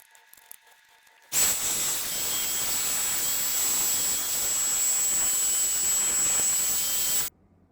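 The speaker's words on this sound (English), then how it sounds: "I used a small hoover and held it close to the motherboard" A small handheld hoover held close to a computer motherboard, vacuuming dust off it: a loud, steady whining suction roar with a high pitched tone that starts abruptly, runs continuously for about six seconds, then cuts off.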